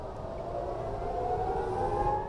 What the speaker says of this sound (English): For the last hour, sirens have been going off across the whole country.